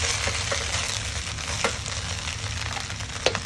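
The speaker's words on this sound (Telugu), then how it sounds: "సో టోఫు వేసిన తర్వాత మంచిగా ఇలా మిక్స్ చేసుకొని" Tofu fried rice being stirred in a hot pan, with a steady broadband sizzle and occasional scraping clicks of the utensil against the pan, close and continuous with no voices.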